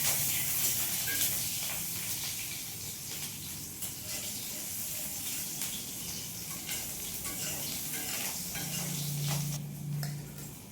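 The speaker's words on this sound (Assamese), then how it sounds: "তেলখিনি গৰম হোৱাৰ পিছত কাটি থোৱা পিঁয়াজখিনি দি পেলাই অলপ সময় মই ভাজিম" Chopped onions fry in hot oil in a wok, a steady broad sizzling hiss that carries on throughout at close range, with a low hum surfacing near the end.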